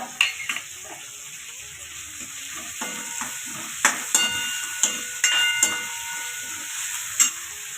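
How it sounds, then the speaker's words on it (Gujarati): Kathiyawadi kadhi being stirred in a pot over low heat, with a spoon knocking and scraping in irregular clicks over a soft continuous simmering hiss. "આવી રીતે થોડી વાર હલાવતું રહેવાનું"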